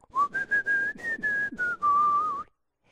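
A clear, melodic whistle answers a sung call in a song, one tuneful phrase rising and falling for a couple of seconds with short breaks before stopping.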